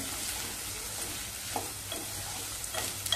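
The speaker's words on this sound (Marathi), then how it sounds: "कांदा छान असा परतवून घ्यायचा." Onion frying in a pan over medium heat for dal tadka, a steady close sizzle with soft scraping stirs throughout, no voices.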